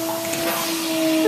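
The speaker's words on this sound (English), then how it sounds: "Ernest has got the vacuum on and running" A vacuum cleaner runs steadily during spring grooming of a horse, a constant loud whine with a fixed tonal hum, close by and unbroken throughout.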